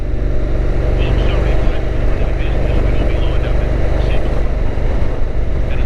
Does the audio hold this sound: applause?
no